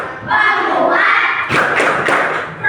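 Indonesian classroom pupils perform the Tepuk 5P clapping chant, sharp rhythmic claps in quick bursts mixed with loud group voices chanting along, close and energetic.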